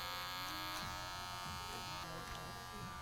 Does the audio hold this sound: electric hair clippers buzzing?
yes